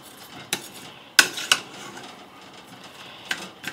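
Vegetables for a pot roast, with celery and natural juices, being stirred in a pot: a few sharp utensil clinks and scrapes against the metal, spaced apart over a quiet background.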